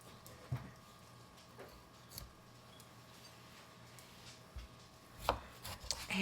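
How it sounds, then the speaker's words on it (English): Knife cutting older, slightly sprouting potatoes into small even cubes on a board, with sparse, quiet taps spaced seconds apart and a few sharper cuts toward the end. "the potatoes, I'm just going to kind of cube them in a small dice"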